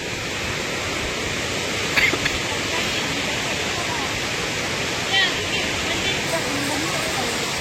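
A Kerala waterfall roars as a constant, dense rush of falling water, filling the scene evenly while people talk faintly over it.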